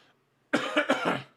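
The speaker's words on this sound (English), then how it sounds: "I'm really sorry for the cough." A single person's cough, close to the microphone, breaking into a short burst of three or four harsh, rough hacks after a quiet pause, during a live pre-show stream.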